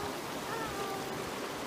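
Creek water rushes steadily behind rocks where people are resting, a constant broadband wash of flowing water with no voices over it.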